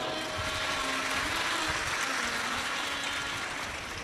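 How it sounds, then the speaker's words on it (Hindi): A large audience claps loudly at a Shiv Mahapuran katha gathering in Bhusawal: dense, steady, sustained applause with no pauses, like a continuous wash of many hands. "एक बार जोरदार ताली बजाओ।"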